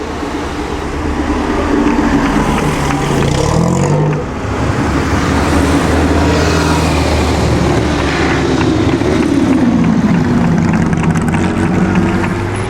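A vintage race car on the Mille Miglia road rally roars past close by and drops through the gears, engine pitch falling and rising under a continuous loud, rumbling drone with no talk.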